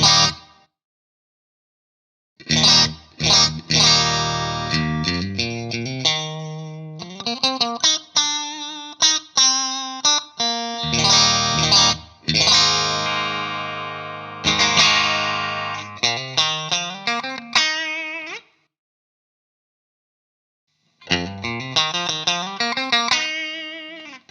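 An electric guitar through a Vahlbruch Quantum Opto compressor pedal on light compression plays clean, evenly compressed notes and strummed chords in phrases, separated by brief silences.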